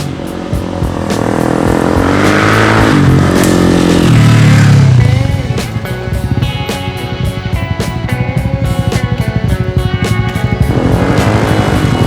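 A Honda motorcycle being ridden, its engine rising loudly in a revving acceleration before settling into a steady, close throbbing drone with rhythmic pulses and wind rush, no talking.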